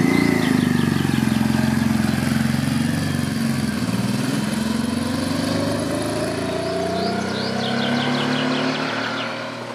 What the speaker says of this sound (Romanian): Sunetul fain de Transalp.